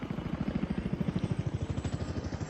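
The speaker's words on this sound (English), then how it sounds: "Shame you don't actually hear like the helicopter sounds, because they do make a thudding noise" Chinook helicopter rotor thudding inside a video game: a steady, rapid train of low, loud blade pulses keeps going alone for the whole stretch, with no talk over it.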